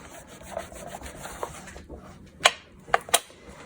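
Paper spreads of a journal bound with a five-hole pamphlet stitch are pressed flat along the center fold, giving soft, close rubbing that ends in three sharp papery crackles.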